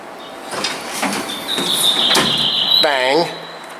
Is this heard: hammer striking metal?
no